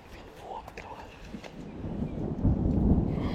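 Deep rumbling thunder from a thunderstorm, building louder over a few seconds beside a trout-fishing spot, with faint voices at the start.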